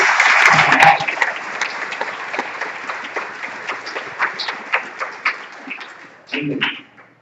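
An audience bursts into loud applause that gradually thins into scattered claps, then a final brief flurry before fading out.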